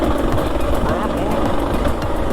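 A tractor engine labors up a short hill climb toward a blind curve, a close, steady mechanical drone with a rapid pulsing beat throughout, while people talk over it.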